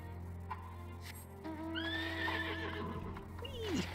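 A horse in the Final Fantasy XIV video game neighs, a rising whinny with a sharp descending tail near the end, over a steady in-game background hum and ambient music.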